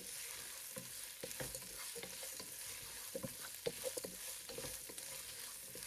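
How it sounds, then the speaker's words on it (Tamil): Chillies and radish sautéing in a pan for radish chutney, a steady soft sizzle with repeated scraping stirs of a spoon against the pan, close and fairly quiet, without talk. "இது கொஞ்ச நேரம் வதங்கட்டும்."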